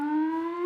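A quiz-show buzzer sounds once on a British TV panel show, a single short, steady electronic tone, loud and alone.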